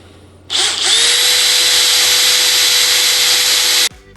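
A drill press runs with a loud, steady high-pitched whine for about three seconds, starting abruptly and cutting off sharply, with no talking.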